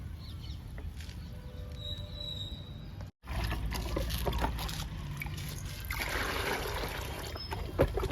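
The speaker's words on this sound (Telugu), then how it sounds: "టెట్లీ గ్రీన్ టీ లిక్విడ్ని ఇప్పుడు చామంతులకి ఇద్దామండి." Tetley green tea liquid is poured onto chrysanthemum plants outdoors, a soft continuous trickle and splatter of liquid against a low ambient rumble, briefly cut off once near the start before resuming.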